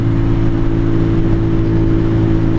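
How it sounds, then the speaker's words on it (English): A 2023 Venom SS3 KP mini 150 bike engine idles steadily and loudly up close, a constant mid-pitched drone with no change in speed and no voices. "Bike really does run good right out of the box."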